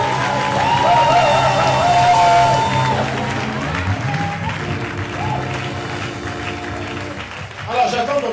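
A church congregation applauds and cheers, sustained clapping and crowd noise filling the space, with a voice speaking over it throughout and a brief rise near the end.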